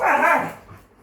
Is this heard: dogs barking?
yes